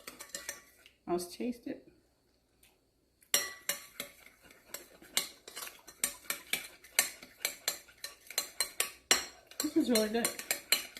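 A utensil stirring oils together in a bowl while making crispy lettuce wraps, repeated close clinks and scrapes in an uneven rhythm after a short quiet gap, with someone speaking briefly at the start and end.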